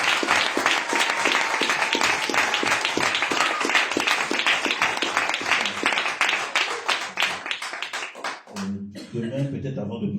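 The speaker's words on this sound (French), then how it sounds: "Lass uns doch mal klatschen für ihr Leben." A church congregation at a deliverance seminar applauds with dense, sustained clapping for about eight seconds, then it stops and a voice is heard speaking.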